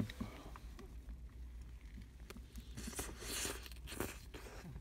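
Crunchy bites and chewing into a McDonald's Tex Mex Stack burger topped with nachos, close to the mic, with loud crackling bursts in the second half over a low background murmur.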